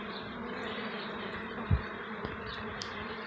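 Honeybees buzz in a steady, faint drone at a hive entrance during robbing, with one brief low thump partway through and no voices.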